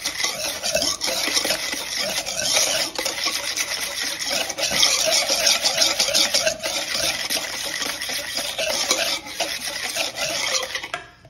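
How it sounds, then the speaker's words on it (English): A spoon scrapes and swirls steadily through a bowl of lemon blueberry muffin batter with vanilla and lemon juice, giving a close, continuous rasp with occasional clinks against the bowl. No voices. "we're going to mix that first"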